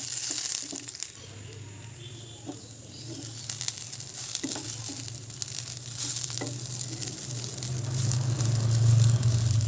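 Basanti rice frying in a pan on low heat for pulao, a steady soft sizzle with occasional stirring scrapes and faint road noise in the background.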